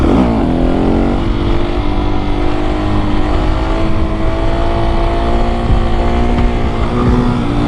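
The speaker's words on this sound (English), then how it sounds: "The bike with the aftermarket slip-on of the Aero exhaust sounds amazing." KTM 701 Supermoto single-cylinder motorcycle fitted with an aftermarket Akrapovič slip-on exhaust, engine droning steadily and loud with a deep, continuous rumble and slight pitch swells, close by and alone without talk.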